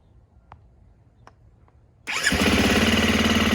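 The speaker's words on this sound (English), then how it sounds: "the official startup and exhaust note of the 2020 KTM 350 EXC build in its completely stock form" A stock 2020 KTM 350 EXC-F dirt bike, started cold, after a few faint clicks catches and fires up into a loud, steady, rumbling idle that carries on to the end.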